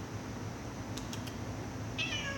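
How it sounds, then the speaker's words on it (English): A house cat meows briefly, a short cry followed a moment later by another higher meow, fairly faint above a steady background hiss with no talking. "this annoying kitty here"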